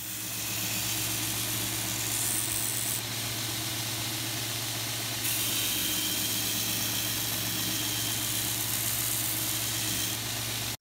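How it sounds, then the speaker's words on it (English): A homemade belt sander runs continuously with a loud, steady motor whine and hum, and the pitch shifts slightly as it works, with no voices. "This was a perfect opportunity to use my homemade belt sander."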